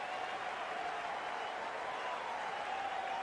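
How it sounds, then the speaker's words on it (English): A stadium crowd in the Cricket 24 video game roars and applauds in a dense, steady wall of sound, distant and sustained throughout with a faint tonal drone underneath and no clear speech. "The crowd are on the edge of their seats."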